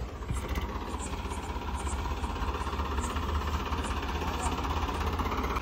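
A tractor engine runs steadily in a wet, muddy paddy field during rice harvest, where a loaded trolley is stuck; a low, continuous idling rumble with a knocking vibration, fairly close and unbroken.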